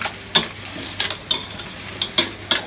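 Clams and herbs fry in a pan for a Thai herbal clam stir-fry, with a steady low sizzle broken by several sharp scraping clacks of stirring spaced irregularly through the clip, close and moderately loud.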